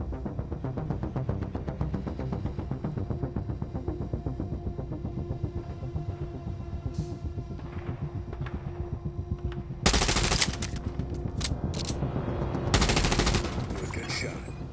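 Rapid automatic gunfire from the Division Resurgence video game, a dense continuous clatter of shots at moving targets, with two louder bursts near the end, over a steady background.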